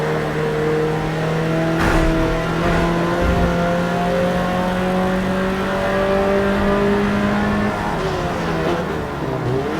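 Car engines in a racing video game at an international raceway, a loud, sustained engine whine that steadily climbs in pitch as the car accelerates, joined by another engine drone and brief bumps.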